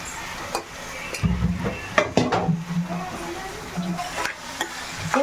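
Tapioca root being stirred and tossed in a pan with spices, giving scraping, clattering spatula strokes over a soft sizzle, close and moderately loud, with no voice.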